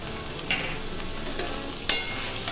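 Potol aloo, pointed gourd and potato, frying in a pan after turmeric, red chili, cumin and coriander powder go in, with a steady close sizzle, a few sharp scrapes as the mixture is stirred, no talking.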